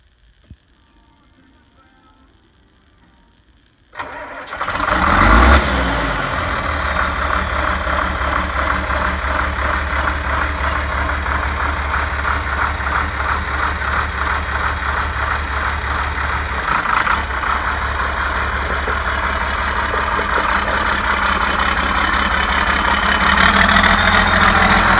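Quiet at first, then a vintage Farmall Super C tractor engine cranks and fires up loudly, settling into a steady, rumbling idle that continues for the rest of the clip.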